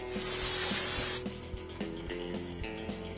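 Hairspray hisses in a loud, continuous burst of aerosol spray onto styled pinup hair for about a second, then stops, leaving quieter handling rustles and faint background noise.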